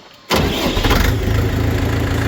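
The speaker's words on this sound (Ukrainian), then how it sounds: "Заводиться з ключа такого, поняли?" A Kentavr X404 tractor engine starts on the key after a brief quiet moment, then settles into a loud, steady, close idle with a rough, throbbing rumble and no voices.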